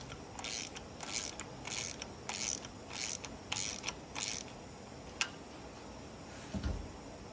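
A valve spring compressor is cranked down on a 12-valve Cummins engine, giving a run of close, quick ratcheting clicks in an even rhythm, then a few isolated ticks.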